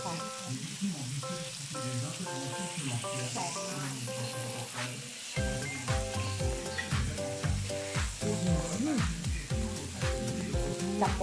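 Swiss raclette cheese melting in a plain frying pan, a constant close crackling sizzle that continues under background music throughout.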